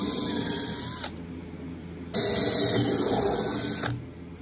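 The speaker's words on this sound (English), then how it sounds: "we're going to drill all the way through, punching all the way through to the inside of the guitar" A drill with a 9/32 bit bores through an acoustic guitar body, a close, high whining motor run that stops after about a second, then restarts for a longer stretch before cutting out.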